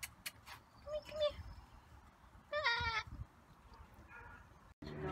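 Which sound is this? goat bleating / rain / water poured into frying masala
goat bleating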